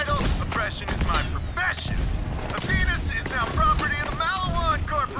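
Rapid gunfire bursts from a first-person shooter match, loud and close, crackling repeatedly under excited speech with some in-game noise throughout.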